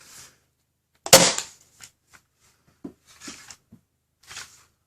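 A Nerf Rival Roundhouse XX-1500 blaster fires once with a sharp, close crack, followed by softer mechanical clicks and handling clatter scattered across the quiet.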